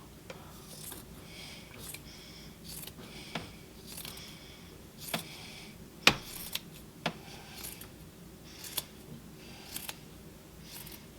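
Scissors cut woven tea towels free from a loom, giving soft intermittent snips and rustles of cloth at a close but quiet level, with one sharper click midway.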